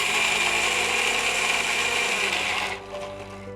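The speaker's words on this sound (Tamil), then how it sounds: "இதில் வந்து நம்ம அரிசி பருப்பு இது நல்லா ஊறி இருக்குது. இதை கொஞ்சம் கொஞ்சமாக சேர்த்து நம்ம நல்லா கிரைண்ட் பண்ணிக்கலாம்." A kitchen mixer grinder whirs loudly and steadily, grinding soaked rice and lentils for a Tamil home-cooking dish, then winds down with a drop in pitch near the end.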